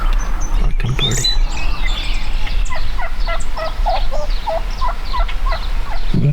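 Outdoors during a turkey hunt, a wild turkey gobbles while breeding a hen, a loud, close rapid rattling gobble over a steady low background hum, with softer chirps and clucks scattered around it.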